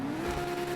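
Car engine with a carbon street exhaust in GTA, a steady low engine drone held at a fairly even rev, quiet and brief.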